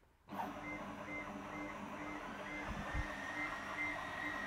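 An ALGOLASER Alpha 22W laser engraver works on a cork coaster, starting abruptly into a faint steady mechanical hum with soft motor whirs and small intermittent tones, quiet and close.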